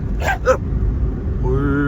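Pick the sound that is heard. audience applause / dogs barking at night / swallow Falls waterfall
dogs barking at night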